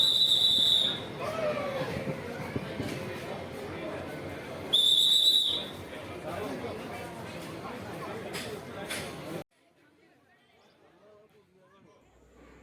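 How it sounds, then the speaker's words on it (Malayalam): A departure whistle for the Nilgiri mountain train at Ooty station sounds twice, a sharp shrill blast at the start and another about five seconds later, over busy platform chatter and crowd noise that drops away to near silence at the end. "ട്രെയിൻ പുറപ്പെടാനുള്ള വിസിൽ മുഴങ്ങി കഴിഞ്ഞു"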